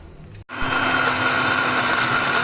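A kitchen mixer grinder whirs loudly while grinding makhana and walnuts, starting abruptly after a short pause and then holding a steady high-pitched motor whine with a constant churning texture.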